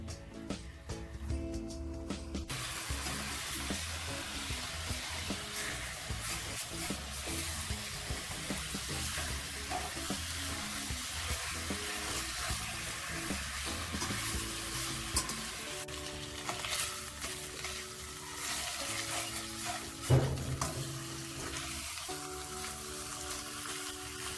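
Pork belly water-frying in a pan as the liquid cooks down, with a steady close sizzle and bubbling, occasional stirring scrapes and a clack near the end, and no talking.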